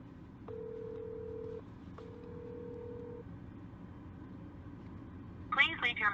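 Two long telephone dial tones sound in sequence outdoors over low traffic rumble, followed by a brief burst of rapid tones near the end.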